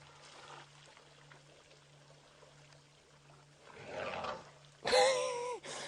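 A young elephant trumpets at a water hole on a safari drive during drought, a loud, brassy, wavering blast near the end after quiet ambience and a low steady hum.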